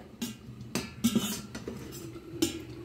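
A metal pot lid lifted and a hog plum curry with milk stirred, giving a few clanks and scrapes of metal on metal in an uneven rhythm, close up and fairly quiet, with no talking.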